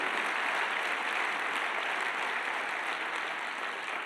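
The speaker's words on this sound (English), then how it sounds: "Give yourselves a round of applause" An entrepreneur conference audience gives a continuous, even round of applause that stays dense and fairly loud from start to finish.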